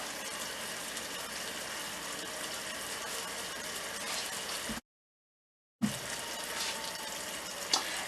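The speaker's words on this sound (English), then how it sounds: "the bubbles are breaking quite quickly as the water starts to evaporate" Sugar syrup boils in a pan for chocolate caramel, its bubbles bursting quickly in a dense, steady fizzing crackle that cuts out briefly partway through, then resumes.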